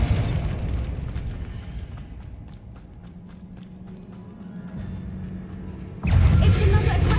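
A Bombarda blast spell cast in Hogwarts Legacy, a deep rumbling explosion that opens the clip, a quieter stretch with light footsteps, then a second heavy boom near the end.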